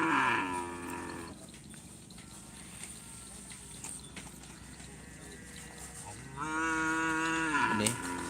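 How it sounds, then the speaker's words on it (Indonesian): Cattle at a karapan sapi bull race on Sapudi island give long, deep moos, one at the start and another loud one near the end, over outdoor crowd murmur and rustling. "Ini sapi remblong, berarti ini yang penekat guys."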